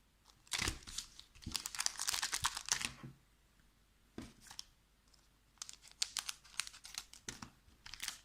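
Crinkly foil Pokémon card booster pack being snipped with scissors and torn open, in short bursts of crisp rustling separated by brief quiet pauses.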